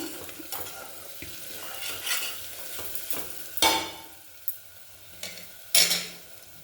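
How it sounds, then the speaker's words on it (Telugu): Mutton keema stirred and fried in a pan, with intermittent scraping stirs and soft sizzling, a few louder clattering strokes near the end, no voices. "ఇప్పుడు ఇందులో మనం కీమా మటన్ వేసేసుకుందాం."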